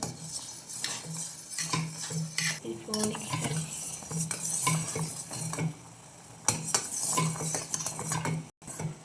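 A spoon stirs a fruit jelly mixture in a pot to dissolve it, steady scraping and clinking against the metal in an irregular rhythm, close and fairly quiet, with no talking.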